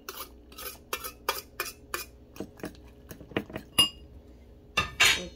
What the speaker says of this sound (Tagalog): Halo natin yung green onions.